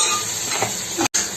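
Mutton biryani being stirred in a pot, giving a close, loud scraping and sizzling sound with a brief clatter near the end, no voices.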